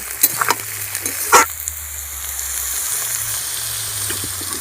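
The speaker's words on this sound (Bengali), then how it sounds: "ক্যাপসিকাম, গাজর, বিনস আমি এই তিনটেকে দিয়ে ভালো করে ভেজে নেব।" Capsicum, carrots and beans sizzle steadily in a hot pan, with a few sharp clinks and scrapes near the start as they are turned.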